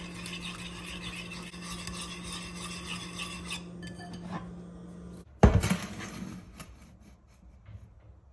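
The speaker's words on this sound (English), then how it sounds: "Now I'm gonna go ahead and mix it all together." Ingredients for crispy chilli beef, including honey, are stirred together in a bowl, a steady scraping and rubbing of utensil against the bowl, ending with a couple of sharp clinks, close and alone.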